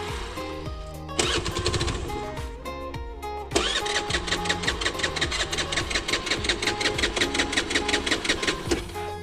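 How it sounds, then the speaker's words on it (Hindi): A Honda Activa scooter engine with a faulty CDI cranks and catches briefly, drops out, then restarts and runs with a steady rapid putter through to the end, close and fairly loud, with no talk. "ये स्टार्ट भी नहीं हो रही है, ये स्टार्ट हो गई, ये बंद हो जा रही है।"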